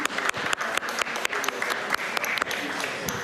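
An audience at a COP28 climate forum claps steadily for a few seconds, a moderate, even spread of applause from a seated crowd.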